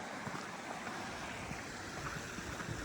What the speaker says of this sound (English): we're coming up on our first river water crossing